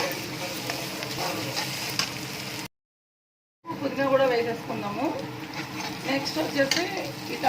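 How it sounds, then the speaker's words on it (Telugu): Ginger garlic paste fries in a pan with a close, crackling sizzle and some stirring. A second of silence breaks it up, and then the frying comes back busier. A voice speaks over parts of it. "అల్లం వెల్లుల్లి పేస్ట్ వేసుకున్నాను అది కూడా బాగా ఫ్రై అవ్వాలి"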